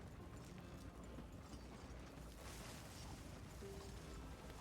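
Horse hooves clip-clopping in Red Dead Redemption 2, a steady galloping rhythm under a dense, loud wash of game ambience and rumble.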